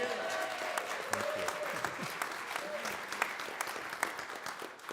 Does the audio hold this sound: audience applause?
yes